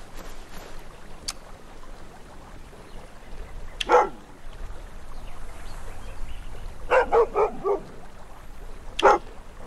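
A dog barking in a video game: a few scattered sharp barks, single ones and then a short cluster, heard at moderate distance over a continuous low ambient background.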